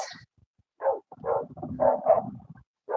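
Dogs barking in short bursts, a few yips and barks at moderate distance with gaps of quiet between them.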